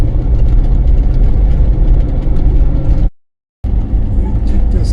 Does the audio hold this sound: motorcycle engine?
yes